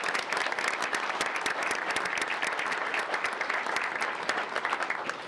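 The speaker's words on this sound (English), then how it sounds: "So let's give them one more round of applause." Another round of applause honors a high school choir at a school board meeting: many hands clap steadily in a large room, a continuous even patter of moderate loudness lasting the whole stretch, with no speech over it.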